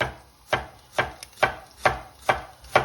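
Knife cutting beef for a ginger and spring onion stir-fry into thin slices on a board, six crisp evenly spaced chops close up with no talk.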